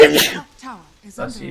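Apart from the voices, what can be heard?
sneeze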